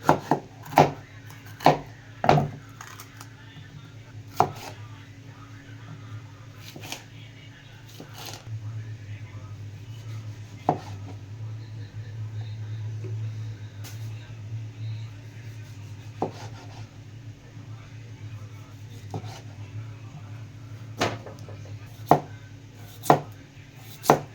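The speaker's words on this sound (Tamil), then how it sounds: "பெரிய சைஸில் இந்த மாதிரி கட் பண்ணி எடுத்துடணும் எல்லாத்தையும்." A knife chops vegetables into large chunks on a cutting board, with sharp, irregular knocks spread across the whole stretch over a steady low background hum. The chopping is close and clear, and no one speaks.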